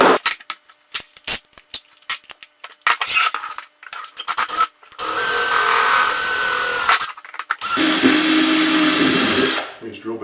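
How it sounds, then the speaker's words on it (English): A power drill with a 3/16 drill bit runs in a workshop in two sustained loud whirring bursts of a few seconds each, after a series of short clicks and knocks. "These drill bits are cool until you get them bound up trying to back them out."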